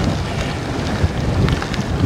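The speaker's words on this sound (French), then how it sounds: "Le beau vent de face" Continuous headwind buffeting the microphone while riding a gravel bike, with low rumbling gusts, loud and close, with no voices.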